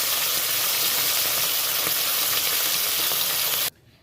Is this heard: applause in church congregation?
no